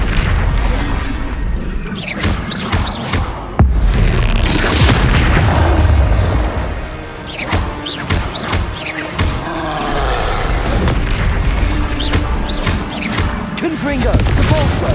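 Rapid spell blasts and booming explosions from Hogwarts Legacy combat, loud and continuous over fifteen seconds, dense crackling bursts with heavy low-end thuds, under shouted incantations.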